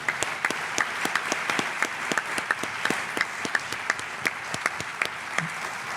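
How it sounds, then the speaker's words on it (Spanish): A conference audience at a mystery and UFO event in Zamora applauds, a continuous wash of clapping with distinct nearby claps popping out at a regular pace, no voices. "Por favor, un fuerte aplauso para Nando Domínguez y Miguel Ángel Moyano."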